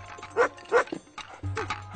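A dog in a French animated cartoon episode gives a few short barks or yips in quick succession, followed by a lower sustained tone underneath.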